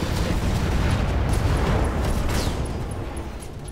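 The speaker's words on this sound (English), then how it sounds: "Rocket launcher 20 explosion." Rocket launcher explosion in the mech combat game Roguetech, a loud rumbling blast that rolls on as a sustained heavy boom with crackling debris, fading slightly toward the end.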